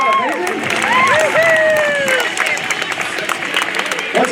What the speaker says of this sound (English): A big round of applause for the United States Aerobatic champion, Rob Holland, ladies and gentlemen.